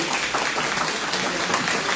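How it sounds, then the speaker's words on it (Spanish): Audience applause greets the featured speaker at a conference on the global and Peruvian economy and trade, a dense, steady wash of clapping that fills the short stretch with no voices heard. "Aplausos para nuestro expositor"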